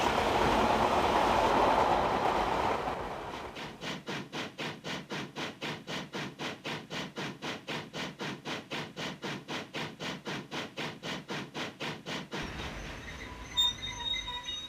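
A train passes close by, starting with a broad roar and then settling into a long run of steady rhythmic clickety-clack wheel beats over the rails, with faint squeals near the end.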